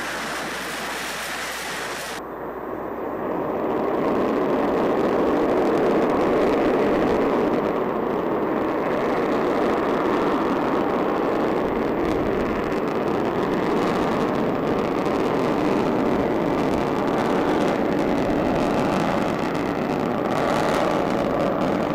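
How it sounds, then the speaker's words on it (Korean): Nuri test launch vehicle lifting off, a loud, broad, sustained rocket roar that surges in after a quiet start and rumbles steadily without a break, with no talk over it. "시험 발사체가 발사되었습니다."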